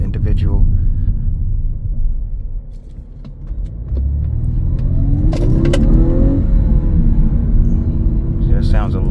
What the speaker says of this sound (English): You can hear it a lot better once you're in dynamic.